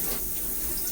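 Spray from an AquaCare 8-mode high-pressure handheld shower head in a home with low water pressure, a steady broadband hiss of running water, close and continuous for the whole second.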